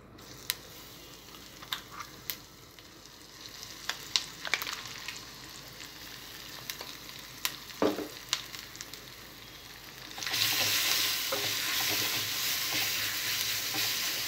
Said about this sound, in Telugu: ఈ ఉల్లిపాయ కారాన్ని ఆయిల్లో బాగా ఫ్రై చేసుకోవాలి